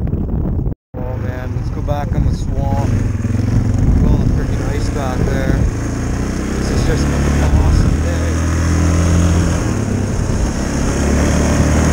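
A Yamaha Kodiak 450 ATV engine drones loud and steady while riding over rough ice, with wind buffeting the microphone and a rider talking over the motor.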